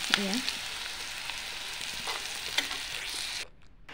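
Food sizzles steadily in a hot pan while being stirred, with a soft scrape now and then and a brief voice near the start, fairly quiet and close.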